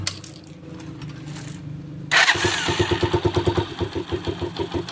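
A Rusi Macho 150 motorcycle after a tune-up cranks briefly, then catches and settles into a close, loud, rhythmic idle with steady throbbing pulses.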